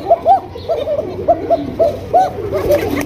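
Pigeons at a busy pigeon market coo in repeated soft, rolling calls, several birds close by, with a faint murmur of the crowd beneath.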